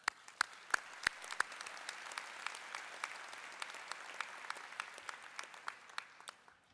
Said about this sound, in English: Congratulations. Applaud yourself.